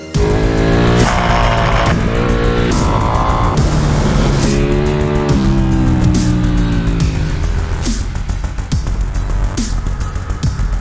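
A 2014 Ducati 899 Panigale with an 898cc V-twin roars continuously while ridden, its engine note rising and falling through repeated gear changes, loud and close throughout with no talking.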